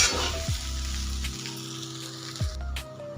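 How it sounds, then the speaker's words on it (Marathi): Poha sautéing in a pan over medium gas, a soft sizzle with occasional stirring scrapes, under a low steady hum that cuts out briefly and returns. "आपल्याला गॅस मिडियम ठेवूनच पोहे इथे ना छान परतून घ्यायचे आहेत."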